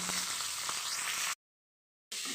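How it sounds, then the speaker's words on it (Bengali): A steady, close sizzle of cauliflower frying in a hot pan, cutting off abruptly to silence partway through before the crackle resumes. "এখন ফুলকপিটাকে ভেজে নিচ্ছি ফুলকপি আলু ভাজা হবে"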